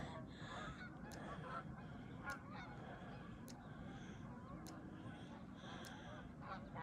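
Many geese honk repeatedly overhead in flight, a chorus of calls rising and falling at a moderate distance with steady background noise.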